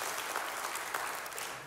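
An audience fills a hall with steady, dense applause, many hands clapping at once at an even level throughout, with no talking over it.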